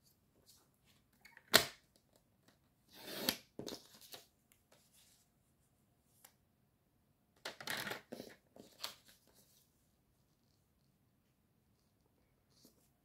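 Paper being cut with scissors for a café, tea and chocolate themed moodboard: a few soft, brief snips and rustles in two separate bursts, close and quiet, with long near-silent gaps between.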